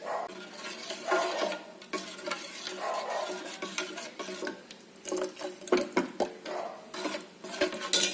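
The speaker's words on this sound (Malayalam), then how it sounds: "ഇതിലേക്ക് നട്ട്സ് പൊടിച്ചിടണം. ഇളക്കി തിളപ്പിക്കണം." A spoon stirs ground nuts into milk heating in a pot, with scraping and clinking against the metal and a faint simmering sizzle underneath, close and irregular.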